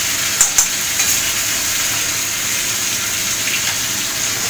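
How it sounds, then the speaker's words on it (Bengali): Onion, ginger and garlic fry in a pan with a steady, fairly loud sizzle, and a few sharp clicks of stirring come early on. No voices. "একেবারে পেঁয়াজ আদা রসুন সব এভাবেই ভাজছি।"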